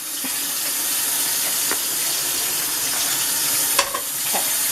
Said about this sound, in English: Cold water over the spaghetti.